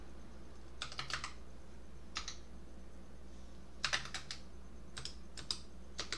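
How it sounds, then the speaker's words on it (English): Typing on a computer keyboard while entering PowerShell commands for Microsoft Teams: short bursts of soft, quick key clicks separated by pauses, close and fairly quiet against a faint steady hum, with no voices. "I'm going to type"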